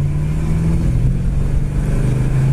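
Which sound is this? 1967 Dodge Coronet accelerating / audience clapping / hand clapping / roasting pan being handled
1967 Dodge Coronet accelerating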